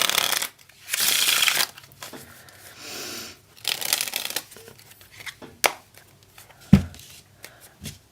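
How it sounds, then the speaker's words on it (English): Several bursts of riffling and shuffling cards, quick papery rustles separated by short pauses, with a few sharp taps near the end. "the spectator can shuffle the cards as much as they like"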